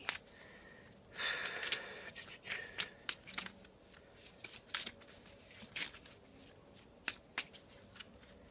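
Tarot-style cards are shuffled close by in quick riffling bursts and soft slaps, an irregular run of crisp papery snaps, fairly quiet with a few louder flicks.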